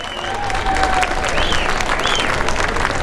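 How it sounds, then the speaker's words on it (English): Applause from a gala audience at A Night at The Cocoanut Grove in Los Angeles, dense steady clapping filling the room with faint whoops and cheers rising above it. "Round of applause, folks."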